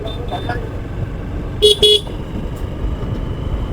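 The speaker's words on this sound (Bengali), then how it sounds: "সম্ভবত কোনো সমস্যা এখানে পুলিশে গাড়ি আসছে" A police vehicle arrives on a busy, crowded street, sounding two short horn toots close together over a steady traffic rumble, while a voice talks nearby.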